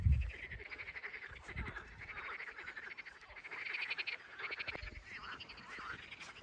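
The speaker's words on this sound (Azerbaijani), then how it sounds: "100 milyon dənə qurbağa var." A dense chorus of many frogs croaking together outdoors at a campsite, a steady overlapping rattle of calls that swells and fades, with one low thump near the start and no talking.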